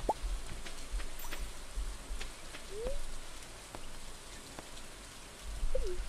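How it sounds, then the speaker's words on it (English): Rain falls on Gingy Island in a video game as a steady, close patter of raindrops with scattered plops, joined by a few brief chirping tones. "Did not know it was going to rain here in Gingy Island."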